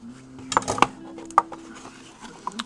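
A trading card box for 2009 Ultimate Collection and Gridiron Gear football is cut open, giving a few sharp, close clicks and taps over a low, quiet background.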